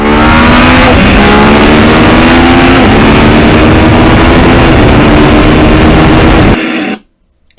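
A 2020 Yamaha MT-09 motorcycle roars loudly and close, its engine pitch climbing and stepping through quick-shifter gear changes before cutting off abruptly near the end.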